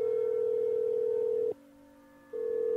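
Home landline telephone dial tone: a steady electronic hum that cuts out briefly for about a second, switches to a fainter tone, then resumes, heard clearly alone.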